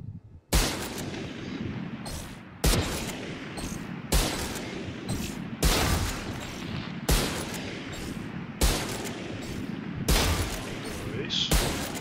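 Marshal rifle firing in a video game: a series of single sharp, booming shots spaced roughly one and a half to two seconds apart, each with a short decaying tail, loud and close.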